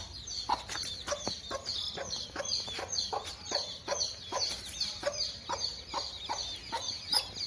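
Little baby chicks in a yard in Sivagangai, a steady chorus of high peeping chirps, faint and continuous with rapid repeated calls over low background noise.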